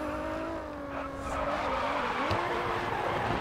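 Nissan 2003 Silvia drifting in GRID Autosport, with a sustained engine drone and wavering tire squeal as the car slides, loud and continuous throughout.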